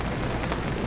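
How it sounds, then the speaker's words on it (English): Dense, steady patter of rain drumming on a tarp during a Florida thunderstorm, loud and close, with a low rumble underneath. "Rain is hitting the tarp."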